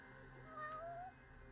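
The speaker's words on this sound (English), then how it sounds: "Oh, I hear a cat." A single cat meows faintly over a steady low background hum in the Judgement video game, one short drawn-out call with no voices.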